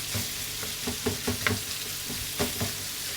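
Filling for mini tacos sizzles in a pan while a utensil stirs and scrapes it, with a steady close frying hiss broken by irregular knocks and scrapes, and no voices.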